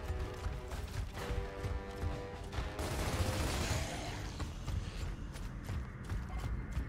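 Gunfire in the video game Gears of War: Ultimate Edition: a dense run of rapid automatic shots and mechanical clatter over a rumbling game backdrop, moderately loud and with no voices.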